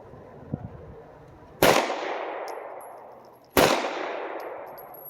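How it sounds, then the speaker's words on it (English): Two loud, close pistol shots from a used SIG P320 X Compact fired at the range, spaced about two seconds apart, each with a sharp crack and a lingering echoing decay. "I'm purposely shooting on the right side of the first group."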